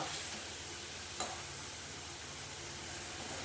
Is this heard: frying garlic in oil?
yes